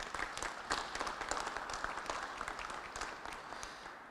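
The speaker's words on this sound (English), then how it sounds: "let's give him a round of applause for his work" An audience at a COVID anniversary remembrance event applauds, a steady patter of many hands clapping heard from a distance and fairly faint for a few seconds.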